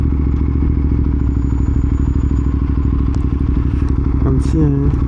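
A BMW R1200 GS motorcycle engine runs loud and close with a steady throbbing idle, then a brief revving rise near the end, with some clatter over it.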